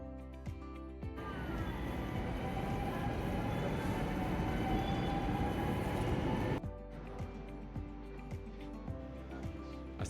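An intercity train rolls along in the Netherlands, a steady rumbling roar of wheels on track with a rising hum that fills the middle of the clip before dropping back to a quieter interior drone.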